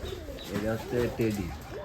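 Pigeons coo in a few throaty, rolling phrases close by, over steady background noise, with a person talking at the same time.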